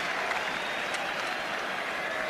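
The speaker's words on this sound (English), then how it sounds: "Good applause, of course, for the home team." A football stadium crowd applauds the home team in heavy rain at an Arsenal versus Tottenham match; a dense, steady wash of clapping and crowd noise with no break.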